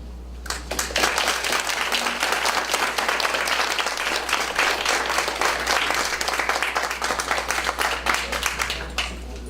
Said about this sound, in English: big round of applause for Deanna